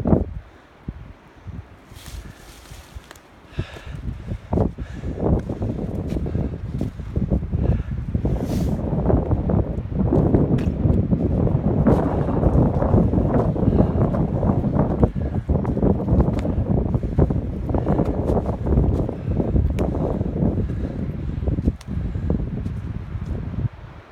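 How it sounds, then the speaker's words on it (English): Steady wind roars outdoors at World's End State Park, buffeting the microphone with a continuous rushing noise that stays loud throughout. "Kind of windy up here too today."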